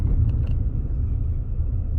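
A car coasting and braking from about 20 mph to a stop at a red light, with steady low road rumble and engine drone that stays fairly even throughout.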